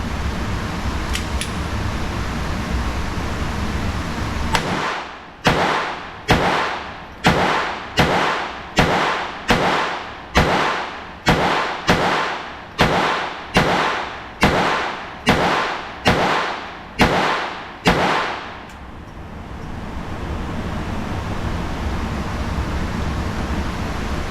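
A gun fired at a shooting range, about seventeen sharp, loud bangs in a steady, evenly spaced rhythm, each with a short fading ring, nearby, then the firing stops and only background noise remains.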